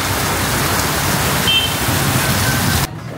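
Heavy rain pours in Mauban, Quezon, a loud, steady hiss of downpour that holds without a break and then drops away sharply just before the end.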